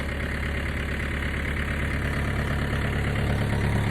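A loaded tractor engine idling nearby, a steady, loud low rumble with an even mechanical chug that holds constant from start to finish, no voices.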